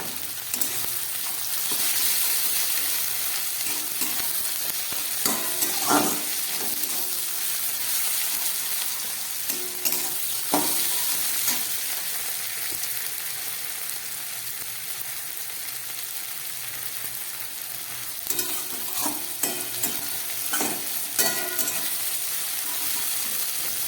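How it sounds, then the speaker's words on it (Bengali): Paneer cubes frying in hot oil in a pan, a steady bright sizzle throughout with occasional scraping clinks of a spatula stirring, close and loud, no talking. "ভালোভাবে ভাজা হয়ে গেছে।"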